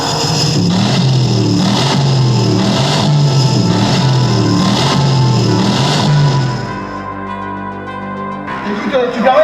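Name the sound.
car engine being started and running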